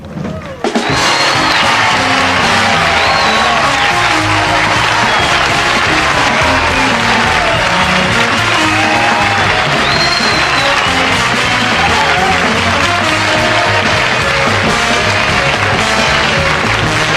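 A television talk-show studio audience bursts into sustained loud applause and cheering, a dense wall of clapping that holds steady for many seconds after a brief opening.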